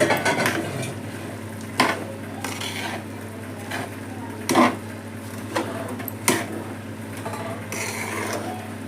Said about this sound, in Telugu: వేయించుకున్న బూందీ ఉంది కదండి ఇదంతా పాకులో వేసి మంచిగా కలియబెట్టాలి